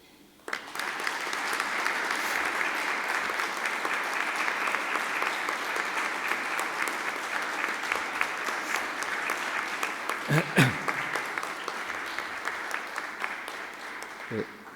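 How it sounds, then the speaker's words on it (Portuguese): Sustained audience applause at a national conference on flood risk, steady and even clapping from a large room that holds for over ten seconds. "eu gostaria aqui de pedir uma salva de palmas"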